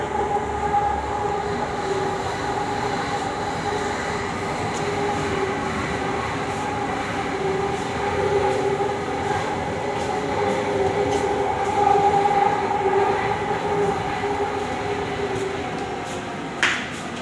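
Inside a moving Delhi metro carriage heading toward Jafrabad: a continuous rumbling hum with a tonal motor whine, faint rattles and clicks, and a brief clack near the end.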